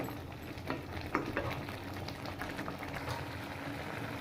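Egg tarka with fresh coriander leaves being stirred in a pan over the heat, a steady close bubbling sizzle with a few sharper scrapes and clinks of the spoon, no voices.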